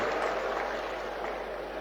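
A crowd at a clinic inauguration in Punjab applauds for a little girl's birthday, a steady, dense wash of clapping that stays even throughout.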